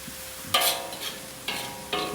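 Chicken and bean sprouts stir-fried with bagoong shrimp paste: soft sizzling under several quick scraping stirs of a utensil in the pan, arriving in short, irregular bursts.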